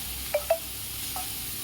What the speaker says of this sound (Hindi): अदरक लहसुन का कच्चापन निकलने तक 1-2 सेकंड में इसे भूनूंगी